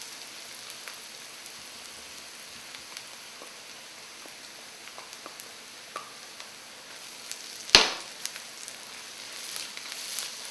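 Onions and ginger frying in a pan for Kerala fish curry, a soft continuous sizzle with scattered light crackles and one sharper pop partway through, no voices.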